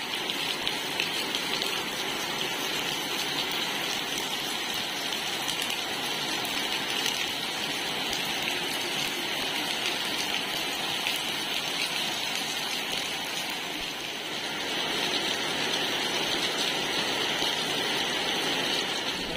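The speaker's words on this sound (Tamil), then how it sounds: "அதுக்குள்ளே மழை பெஞ்சு ஃபுல்லா பேத்துட்டு வந்துச்சு" Heavy rain pours down steadily in a dense, unbroken hiss that stays loud and even throughout, with no voices.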